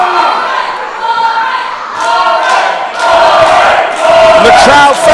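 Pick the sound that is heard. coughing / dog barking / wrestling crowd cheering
wrestling crowd cheering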